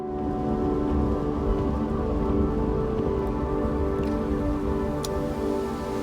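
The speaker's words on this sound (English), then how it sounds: "The journey had begun, and so did the rain." Steady rain falls during a Land's End to John o' Groats relay run, a continuous dense hiss over a low droning hum, with no voices.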